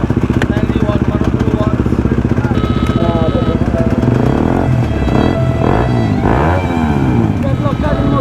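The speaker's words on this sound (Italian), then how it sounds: "Ora sale con la moto" A motorcycle engine runs close by in a steady, loud drone with rising and falling revs as it sets off, and other engine noise blends underneath.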